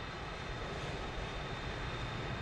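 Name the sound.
aircraft taxiing at Warsaw-Radom airport, from video game MSFS 2024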